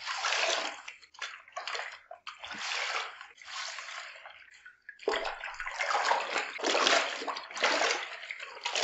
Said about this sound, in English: Just dip it in and rinse it out.